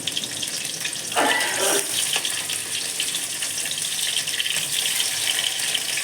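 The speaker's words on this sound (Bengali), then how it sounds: "হাই ফ্লেমে মাছটা ভেজে নেব" Katla fish pieces fry in a pan over a high flame, a steady close hissing sizzle with a brief sharper burst of spatter early on and no talk.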